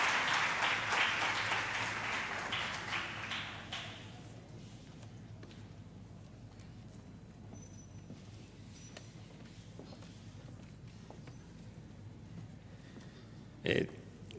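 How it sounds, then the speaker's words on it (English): Audience applause at a campus community safety programme launch at the University of KwaZulu-Natal, loud for the first four seconds and fading out, followed by quiet room noise and one sharp knock near the end. "Can we give him a round of applause as he ascends the stage?"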